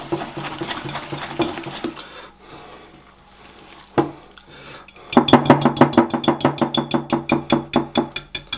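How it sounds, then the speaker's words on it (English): Ricotta cake dough is beaten by hand with a whisk in a bowl, a few loose clinks and pauses first, then a fast, steady run of rhythmic tapping strokes close up. "We're just going to whisk it"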